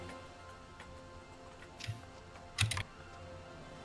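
Quiet clicking keystrokes on a linear-switch computer keyboard, scattered taps over a faint hum, with two short bursts of quicker typing toward the end.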